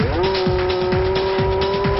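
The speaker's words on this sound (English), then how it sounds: "Just look at the acceleration as it goes down to Cox Corner" A 750-horsepower McLaren Formula One car accelerates hard with a loud, sustained high engine whine climbing through gear changes, close and without talk.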